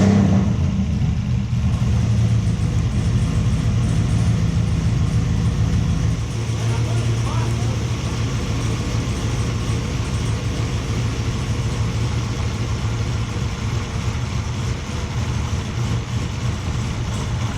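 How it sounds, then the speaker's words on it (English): A Chevrolet Camaro ZL1 engine runs with the air conditioning blasting on full. It gives a loud, steady idle rumble and blower roar that starts with a brief rev, with indistinct voices under it. "I'm gonna start the car and I'm gonna turn the AC all the way up on full blast."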